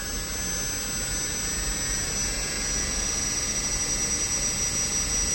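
A BLDC motor driven by an Atmega-controlled LEO converter runs at set speed, giving a steady, loud whine with high tonal squeal that holds constant throughout without pause.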